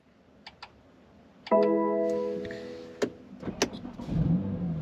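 A BMW M2 Competition fitted with a ghost immobiliser starts up: a few soft clicks and electronic tones, then a chime, followed by the engine catching and settling with faint revving, heard close inside the car.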